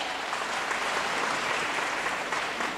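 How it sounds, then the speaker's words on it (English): Audience applause for a children's cultural heritage performance, a dense wash of many hands clapping steadily at moderate volume from a crowd throughout. "Please give them a round of applause."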